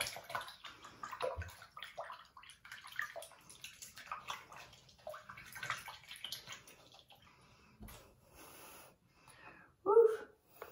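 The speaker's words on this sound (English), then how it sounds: "The water is draining." Bathtub water drains during a dog's bath, with soft gurgling and sloshing close by, a louder gurgle near the end, and people talking throughout.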